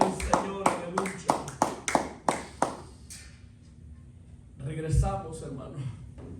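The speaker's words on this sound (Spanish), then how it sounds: "Vamos a darle su ofrenda de palmas fuerte al Señor" Church congregation claps hands in a burst of loud, quick claps over the first three seconds, then fades into quieter murmuring, with a shout near the end.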